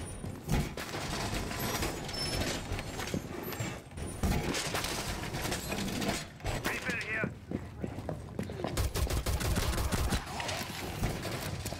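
Gunfire in a Rainbow Six Siege match, sharp shots and short rapid bursts, close and loud against a busy game background, with people talking over it.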